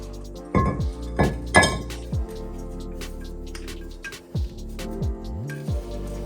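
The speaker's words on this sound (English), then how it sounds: "There we go, that's the caliper off." Metal clinks and clatters as a brake caliper is removed from the wheel of a BMW 325i E91, several sharp close knocks early, then lighter scattered clinks and scrapes.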